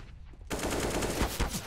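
Rapid AK rifle fire erupts in a Counter-Strike match, a dense loud burst of gunshots cutting in after a quiet start and continuing steadily to the end.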